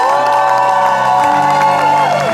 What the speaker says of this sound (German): machen jetzt mal einen riesengroßen Applaus für den Wollfest König!